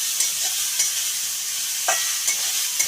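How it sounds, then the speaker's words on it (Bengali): Grated carrots for carrot halwa are stirred in a hot pan, a bright steady sizzle with a few distinct scrapes of the spatula against the pan, close, without any voices. "এখন দিয়ে দেব আমি গাজর। এখন একটু নেড়ে নেব।"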